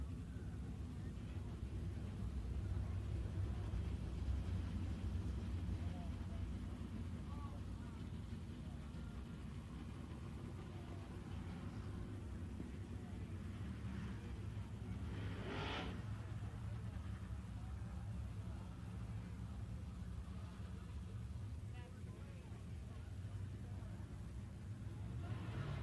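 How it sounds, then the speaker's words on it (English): Six Wissota Modified race cars run an eight-lap heat around the track, a continuous distant engine roar and rumble holding steady, with faint voices mixed into the background. "6 cars going 8 laps of distance."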